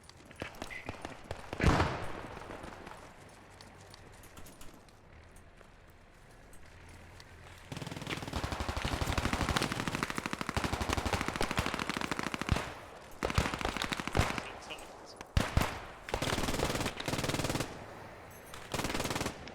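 Repeated machine-gun bursts and single gunshots from the Post Scriptum World War II shooter, in a Carentan battle, rattle on and off at mid distance, with a long sustained stretch of heavy fire in the middle.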